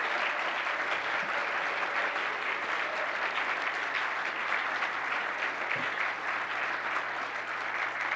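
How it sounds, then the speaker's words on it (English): An audience applauds inductees at an honors brunch, a dense, sustained round of clapping from a large room that holds steady for the whole stretch without letting up. "Can we get one more round of applause for all of our inductees today?"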